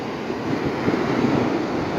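Windy surf rolls in at Preethipura beach, a continuous broad rush of waves and wind buffeting the microphone that swells slightly midway, fairly loud and close.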